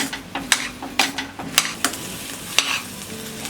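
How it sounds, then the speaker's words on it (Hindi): Jaggery filling with cardamom powder being stirred in a pan over a low flame, with a soft steady sizzle and several sharp spoon scrapes and taps against the pan at irregular intervals. "इसे धीमी आंच पे मिक्स करते हुए कुक करेंगे।"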